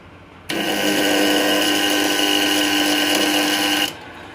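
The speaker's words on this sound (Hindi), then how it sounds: "कितनी जोर से आवाज़ कर रहा है, कितनी कंपन भी कर रहा है स्टार्टर" A farm well pump's starter buzzes and vibrates loudly, a harsh steady drone that starts abruptly, holds for about three and a half seconds, then cuts off, close up and alone.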